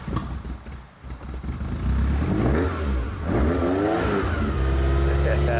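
A Ferrari engine revs hard and close, climbing and falling in pitch in repeated surges over a steady throaty roar.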